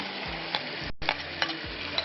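Chickpeas tumble into frying masala and are stirred, a steady close sizzle with a few sharp scraping clinks and a brief pause midway, no talking.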